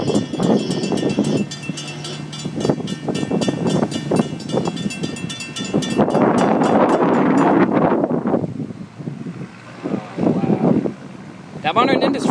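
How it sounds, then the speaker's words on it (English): A Modern Industries railroad crossing bell rings in rapid, even strikes at a trackside crossing where an FEC train passes, heard under wind buffeting and engine rumble with people talking nearby. "That Modern Industries bell sounds great."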